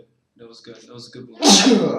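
A single loud, close sneeze bursts out right after someone speaks a short sentence, sharp and breathy, ending the clip.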